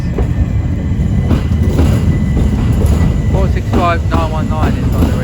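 A Southeastern Class 465 train sits at a London terminus with a loud, steady rumble and a faint high whine, and a voice speaks briefly over it.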